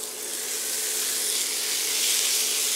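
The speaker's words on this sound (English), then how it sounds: "I covered the pan with vegetable oil and I will start with frying the meat." Meat sizzles in a pan coated with vegetable oil, the first step of a Zürcher Rahmgeschnetzeltes. A steady, dense hiss holds close and even throughout, with no voices.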